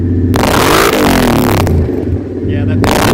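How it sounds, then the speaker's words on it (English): A 2019 Kawasaki Teryx 4 LE UTV fitted with a Trinity stainless header-back exhaust revs hard in loud, close bursts, its raspy roar rising and falling, with voices underneath. "we can get a good listen to what that Trinity exhaust sounds like"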